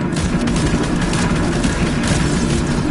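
Dense, continuous rumbling blasts and booming explosions in the video game Fortnite pile over one another, loud and chaotic without pause.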